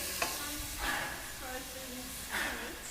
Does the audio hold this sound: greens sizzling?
yes